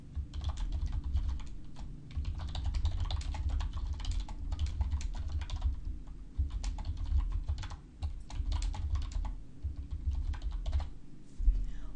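Fingers type a description on a computer keyboard, producing a steady stream of quick, close key clicks with brief pauses, over a low humming background.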